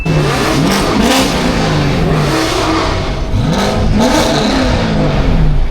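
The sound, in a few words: Mustang car engine revving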